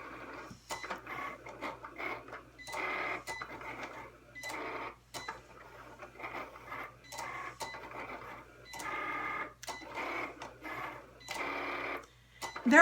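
A Cricut Explore Air cutting machine works through pink cardstock with bursts of whirring motor and carriage movement, stopping and starting in a busy mechanical rhythm, close and moderately loud.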